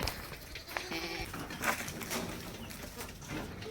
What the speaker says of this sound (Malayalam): നല്ല മുറ്റുള്ള ആടാണ് കേട്ടോ